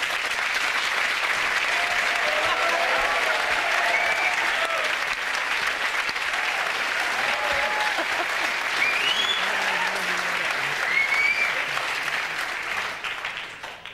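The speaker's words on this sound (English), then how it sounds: "Easy round of applause." Studio audience at a television panel show breaking into sustained applause, a dense wash of clapping that holds steady for most of the stretch before tapering off at the end.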